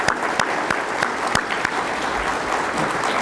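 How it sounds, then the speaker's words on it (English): Audience applause for a family at a mural unveiling ceremony, a steady dense clapping from a crowd with a few sharper claps standing out, moderately loud throughout. "Let's give them a round of applause."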